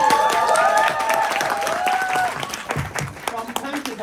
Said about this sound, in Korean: 에너지로 박수를 쳐주시면 감사하겠습니다.